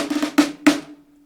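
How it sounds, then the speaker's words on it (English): Snare drum playing a short one-beat phrase for a rudimental march: a quick flurry of light strokes followed by two sharp accented hits, with a ringing tail that fades out, close and alone. "A is a simple one-beat phrase that sounds like this."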